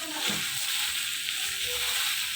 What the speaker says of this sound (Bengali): বেশ ভালো করে নেড়েচেড়ে ভেজে নিয়েছি।